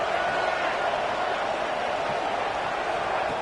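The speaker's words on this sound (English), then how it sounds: "Listen to the crowd energy here in the early going." Steady roar of a packed stadium crowd at a college football game between AGS and Kansas State, a broad continuous wash of massed voices without breaks.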